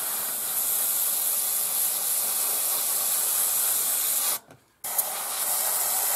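Airbrush spraying flat matte white model paint on a 1/72 scale Airfix CA-13 Boomerang, a close, steady hiss that cuts out briefly near the end, then resumes.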